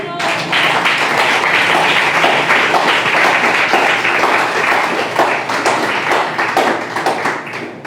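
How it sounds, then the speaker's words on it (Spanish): A church congregation claps loudly during a Spanish-language sermon, a dense burst of applause with sharp individual claps that holds steady, then thins at the end. "Denle un aplauso al Señor."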